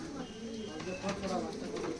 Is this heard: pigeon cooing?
yes